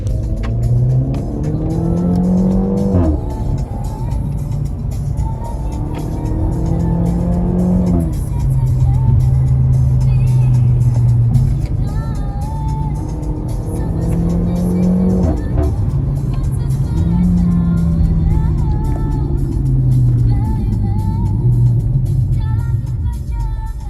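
A Renault Mégane RS with four-wheel steering drives through tight bends, its engine rising and falling in repeated revving swells over a continuous loud road and tyre roar.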